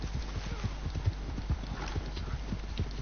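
Horse hooves in Red Dead Redemption 2 clop in a steady rhythmic gait, evenly spaced thuds at moderate distance over a constant low rumble, with no speech.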